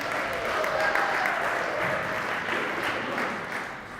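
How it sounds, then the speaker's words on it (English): A conference audience at a fintech startup pitch event gives a warm, sustained round of applause, a steady dense wash of clapping that holds level and fades slightly toward the end. "a warm, welcoming round of applause for Evo Estates"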